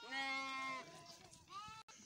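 Goats in a large herd of around 1500 in the Karakoram mountains bleat in two close, loud, drawn-out cries, the first long and wavering, the second shorter, with faint background noise between them.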